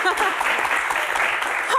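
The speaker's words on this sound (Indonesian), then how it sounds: "terima kasih tepuk tangan" Applause from a studio audience at a Q&A session with Sule, a dense, steady wash of clapping that stays loud and even across the whole short stretch, with no clear talk over it.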